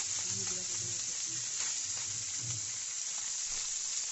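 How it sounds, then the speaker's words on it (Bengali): Low, steady sizzling of small fish frying in a pan, continuous hiss with faint clatter in the background. "আর এখানে মাছ ভাজা হচ্ছে"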